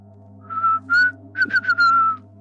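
A person whistles a short tune of several clear, bright notes in quick succession, close and alone over a steady low hum.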